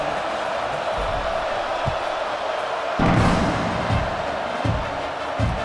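Stadium crowd noise from the EA Sports College Football 26 video game, a steady broadband murmur with a swell near the middle, heard at a kickoff after a score.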